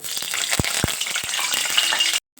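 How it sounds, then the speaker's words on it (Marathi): Curry leaves fry in hot oil in a pan with a dense, crackling sizzle, punctuated by a few sharp pops and knocks, close and loud before cutting off abruptly. "त्यामध्ये कढीपत्ता तळून घेणार आहे बघा"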